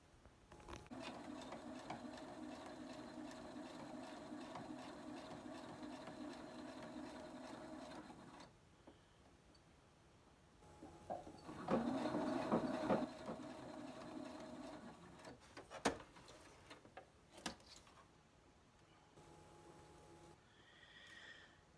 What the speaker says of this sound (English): I'm going to sew it up here by the elastic too, and that also gives the elastic some reinforcement